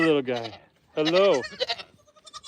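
A young goat bleats loudly and close, two wavering cries on a homestead, followed by a person talking.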